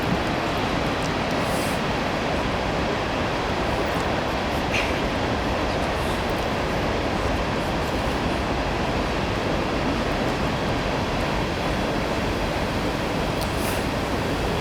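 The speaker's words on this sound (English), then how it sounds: "We're going to wait for this train to go by first." Train rolling past an outdoor wedding ceremony, a continuous loud broadband rumble and rattle of rail cars that holds steady for the whole stretch, with no voices over it.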